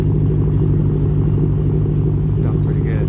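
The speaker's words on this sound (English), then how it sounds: "And you can hear it idling." A small car with a loud modified exhaust featuring mandrel bends and a new clamp, idling with a deep, steady pulsing rumble close by, and a voice briefly speaking over it near the end.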